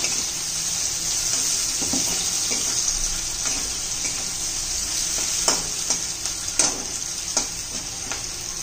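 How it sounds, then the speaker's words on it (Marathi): Vegetables for chicken chilli stir-fried on a high flame, a steady loud sizzle with clinks and scrapes of the spatula against the pan throughout, no talking. "मोठ्या गॅसवर एखादा मिनिटभर परतून घ्यायचे."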